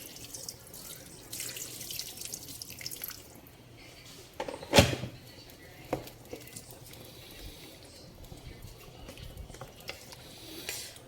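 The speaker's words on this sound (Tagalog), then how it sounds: "Dagdagan natin ng tubig kasi dapat ang tubig balance sa chicken." Water runs from a tap into a cooking pot holding chicken, a steady soft pouring with a louder splash near the middle and a few drips, moderately close with no talking.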